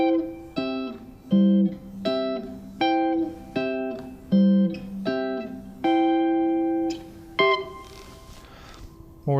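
Open-voiced guitar triads in the C shape position, a series of separate strummed chords that ring out one after another with short gaps, clear and close with no talking.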